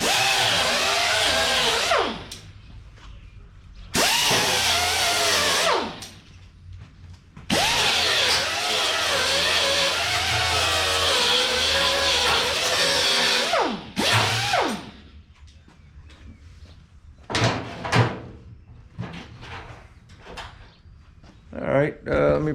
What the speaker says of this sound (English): I'm just going to wire wheel them off real quick.